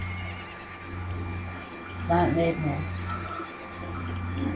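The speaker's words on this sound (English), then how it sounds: "This horse can't get across." A horse neighs in the LittleBigPlanet video game, a short whinny near the middle rising over steady background game music, with talk in the clip.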